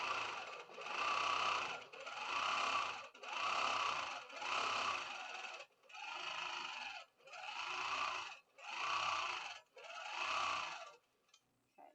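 Longarm quilting machine on a quilt stitching in nine steady bursts of loud mechanical whirring, each about a second long and separated by short pauses, after the needle area was oiled; no talk over it.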